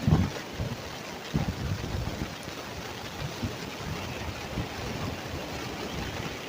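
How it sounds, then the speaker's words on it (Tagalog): Ocean waves surging and crashing on a shore, heard as a moderate, wind-buffeted rumble with irregular swells and no voices over it. "Grabing ano, yung tunog ng hampas ba ng alon."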